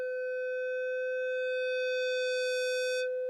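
A Roland D-05 synthesizer plays a single sustained tone, bright and buzzy with rich overtones. It holds steady for about three seconds, then cuts off.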